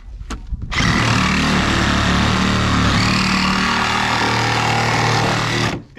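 A power saw cutting through a truck body for a convertible conversion, a brief tool blip followed by a loud, harsh, sustained grinding cut close by for about five seconds.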